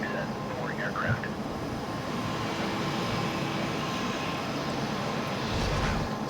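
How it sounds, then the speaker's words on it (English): A C-17 Globemaster in Flight Simulator 2020 holds a steady jet-engine roar throughout, with a constant spooling whine over broadband rumble and radio-style voices talking over it. "Startup is complete. You may disconnect. Roger. Good engine start."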